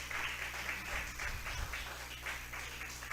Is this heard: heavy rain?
no